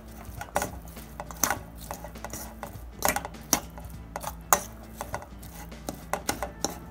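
A spoon clinks and scrapes around a bowl while Italian tuna salad with onion is mixed, in a quick irregular run of sharp taps and knocks.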